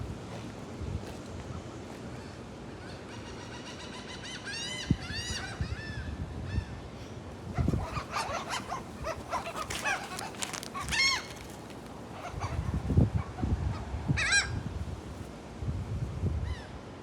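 Seagulls being fed hashbrowns at a motel in Wildwood call in bursts of harsh squawks, some close and loud, over gusty wind noise and distant water sounds.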